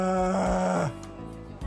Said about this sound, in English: Mai stretched her arms over her head and yawned